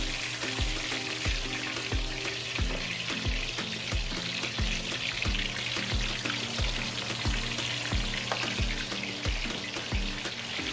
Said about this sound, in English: just grab a hold of the fish with a pair of tongs and just get her in the oil